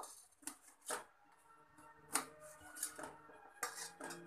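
Knife chopping boiled potato into small pieces on a board: a series of short, crisp taps and scrapes at irregular intervals, close by and fairly quiet, with no talking.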